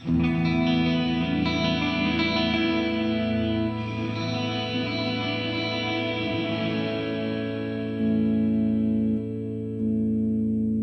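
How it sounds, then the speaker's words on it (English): Guitar heard only as wet reverb from a TC Electronic Hall of Fame 2 pedal with kill dry on, a sustained chord washing out and slowly decaying alone. "when I activate kill dry, you don't hear the dry sound of the guitar, you just hear the reverb"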